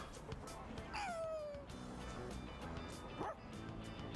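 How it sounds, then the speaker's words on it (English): A stray dog in bad shape in the video game Persona 3 Reload gives a single drawn-out whimpering whine, then a shorter yelp, close and clear over a quiet ambient game background. "It's a stray dog that chased the boy around a little while ago. Looks like he's in bad shape."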